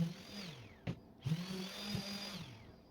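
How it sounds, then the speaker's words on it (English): A power sander whirs steadily against a 2x4 pine board, its pitch dipping briefly a few times as pressure changes, with no talking. "I go ahead and pull out the sander, sand it all up."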